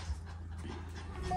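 Dogs pant and whimper softly while waiting at a vet vaccination, a short, close, steady breathing sound with no talking.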